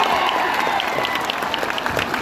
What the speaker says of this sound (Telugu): మీ ఫోన్లన్నీ బంద్ చేసి దయచేసి వాళ్ళు ఎంతసేపు మాట్లాడితే అంతసేపు ఓపికగా వింటామంటే గట్టిగా చప్పట్లు కొట్టండి